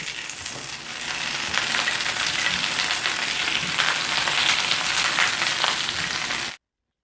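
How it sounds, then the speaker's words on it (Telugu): Green chillies and curry leaves fry in hot oil with a bright, crackling sizzle, close and steady, rising after the first second and holding until it cuts off abruptly. "ఇప్పుడు ఒక నాలుగు పచ్చిమిర్చిని వేపుకుందాం"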